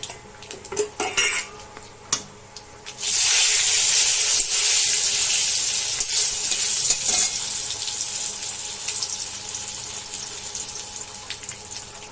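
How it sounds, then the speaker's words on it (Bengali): Dried red chilies and bay leaves hit hot oil in a pan for a Bengali kochu shak dish with coconut, setting off a loud, steady sizzle and hiss after a few clinks of utensils, holding on strongly to the end. "তেল গরম হওয়ার পর শুকনো লঙ্কা, তেজপাতা দিয়েছি"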